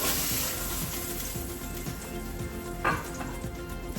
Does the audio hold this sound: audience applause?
no